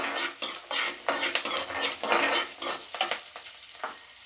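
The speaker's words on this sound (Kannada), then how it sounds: "ಹಾಗೆ ಇದರಲ್ಲಿ ಸ್ವಲ್ಪ ಜೀರಿಗೆ, ಇವನ್ನ ಒಂದು ಸ್ವಲ್ಪ ಲೈಟಾಗಿ ಫ್ರೈ ಮಾಡ್ಕೊಳ್ಳೋಣ." Ginger, garlic, cashews and cumin stir-fried in a pan for paneer butter masala, with a spatula scraping and clinking against the pan in quick repeated strokes over a soft sizzle, close and fairly loud with no voices.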